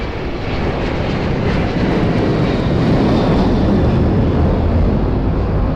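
Airplane at Lisbon Airport, a loud, continuous broadband engine roar holding steady throughout, close by, with no voices.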